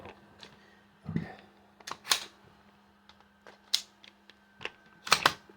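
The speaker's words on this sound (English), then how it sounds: "Bolt locks back." Bolt of a Ruger PC Charger locking back during a function check: a handful of sharp, close mechanical clicks and clacks spaced irregularly over a few seconds, with no talking.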